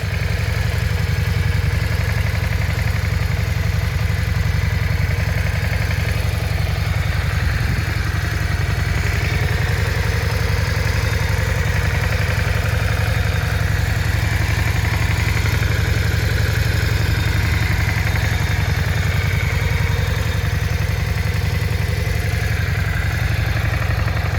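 A Yamaha Virago XV535 motorcycle engine idling close up, a loud continuous low rumble with steady mechanical clatter throughout.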